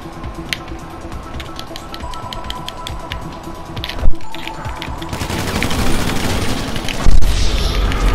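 Gunfire in the video game GTA, with a sniper rifle in play: steady bursts of rapid shots under a dense, noisy mix, with two heavier booming hits and louder sustained fire toward the end.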